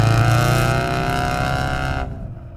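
A tuned 380 WHP Ford Focus RS drives hard through second- and third-gear corners on a tight mountain road. Its loud, sustained engine drone with rich harmonics runs continuously, then drops away sharply near the end.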